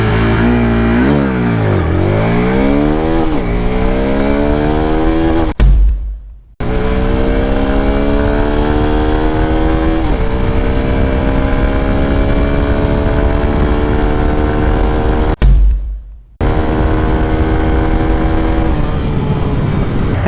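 Hero Xtreme 160R 4V motorcycle on a 0 to 100 acceleration run, loud close engine revving climbing in pitch through repeated gear changes, with two brief cut-offs between runs.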